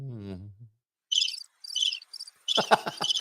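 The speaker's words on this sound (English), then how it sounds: "Where's my crickets?" A cricket chirping sound effect: a few short bursts of high, buzzy chirps separated by brief gaps, clear and alone after a moment of a voice, ending with a denser cluster of chirps.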